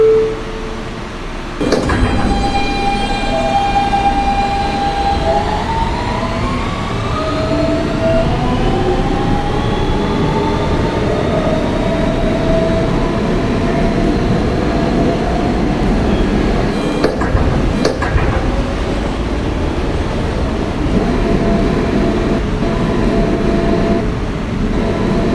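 A Kawasaki R160B-2 Siemens R subway train on a Manhattan-bound local run, with a rising motor whine as it accelerates, steady loud rumble of wheels on rail, and brief clanks midway, all without talk.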